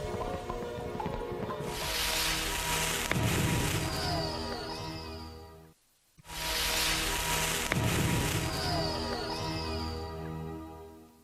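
Firework display explosions, each a broad roaring burst with crackling and fizzing, heard twice in succession and separated by a brief near-silent gap, loud and close with no talk.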